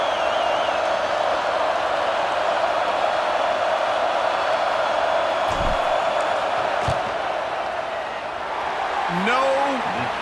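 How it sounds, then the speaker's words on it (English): A steady, loud stadium crowd roars throughout a field goal attempt in the College Football 26 video game, with brief thuds and a commentator's voice over the din. "This crowd trying to do its part to get inside the kicker's head."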